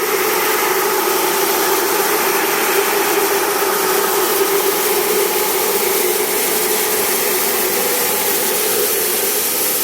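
A homemade aerodynamic winnowing fan sorting wheat seed for sowing: a steady, loud fan roar with a constant airy rush and faint tonal hum throughout, no voices.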